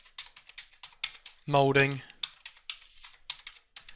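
Quick, light keyboard taps type a file name on a computer, clicking in an uneven rhythm. One short spoken word briefly interrupts the typing partway through.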